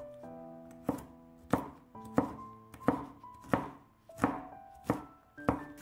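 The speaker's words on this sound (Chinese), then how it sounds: "几瓣大蒜先切成片， 再改刀切成蒜末" A knife strikes a cutting board about eight times in a regular rhythm while mincing garlic cloves. Each chop is crisp, close and loud, with quiet gaps between strikes.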